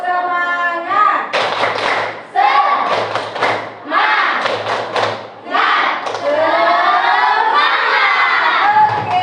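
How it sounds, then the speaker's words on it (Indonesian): A group of students claps in a quick rhythmic spirit-clap pattern during a classroom lesson, with children shouting and cheering loudly between the bursts of clapping. "kita tepuk semangat terlebih dahulu"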